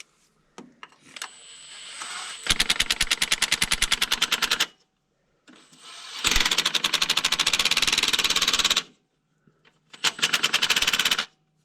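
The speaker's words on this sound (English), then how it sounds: "Bring the big Makita gun" A Makita impact gun tightens bolts in three bursts, each a loud, rapid machine-gun rattle of hammering impacts lasting a couple of seconds, with quiet pauses between them and a few faint clicks and handling noises.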